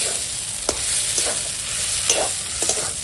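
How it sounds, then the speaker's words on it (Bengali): Bombay duck (loitta fish) being stirred as it fries in a pan, with a steady soft sizzle broken by a few distinct scraping stirs, close and alone without speech. "এইভাবে নেড়ে নেড়ে লটিয়া মাছ রান্না করবে"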